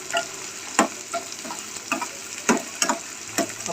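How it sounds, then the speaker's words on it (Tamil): Onions and garlic sautéing in a pan for Tamil vatha kuzhambu, a steady close sizzle broken by a series of sharp, irregular scraping stirs of the spoon against the pan, with no voices. "நல்லா வதக்கி சுருளணும்"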